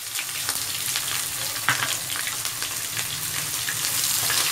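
Onion frying in well-heated oil for a Hyderabadi green chicken dish, a continuous loud hiss and crackle with faint stirring ticks, steady throughout, no talking.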